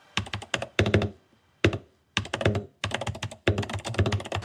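Typing on a transparent Xbox-themed mechanical keyboard: bursts of loud, close, rapid clacky keystrokes with brief pauses between runs.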